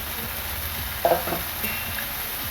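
Fresh cabbage with small tangra fish cooking in a pan, producing a steady close sizzle with a brief clatter of stirring in the middle.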